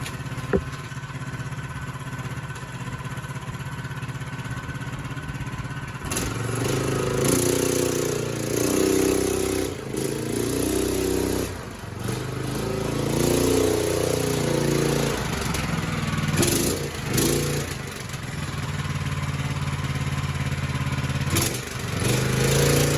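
A small custom-built quad bike engine cranks and catches after a chain adjustment, then runs with an uneven rattling idle, revving up and settling back several times, close by.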